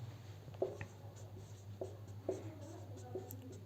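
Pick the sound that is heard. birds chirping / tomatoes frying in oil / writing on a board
writing on a board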